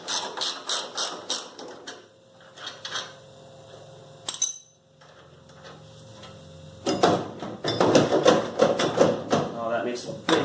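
A ratchet clicks in quick bursts while tow bar bolts are tightened during an installation, with pauses between runs and a louder clattering stretch of metal mechanism near the end; someone talks at times.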